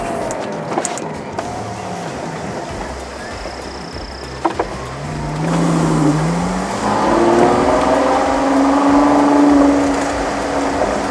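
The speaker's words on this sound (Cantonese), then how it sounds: "有星紅嘅開篷功能" The electric convertible roof of a Ferrari 812 GTS whirs and hums as it opens, a rising and falling motor drone lasting several seconds, with faint clicks and mechanical clunks at the start and no talking.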